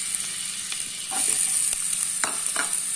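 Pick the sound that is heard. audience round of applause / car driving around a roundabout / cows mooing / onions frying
onions frying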